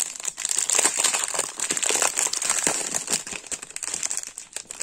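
A plastic packet of diamond painting diamonds being handled and torn open, with continuous close crinkling and crackling of thin plastic, with no voices.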